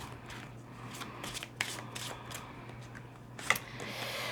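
Tarot cards are shuffled by hand for a reading, giving a series of soft, quick papery riffles and slaps, close and fairly quiet, with a sharper flurry near the end over a low steady hum.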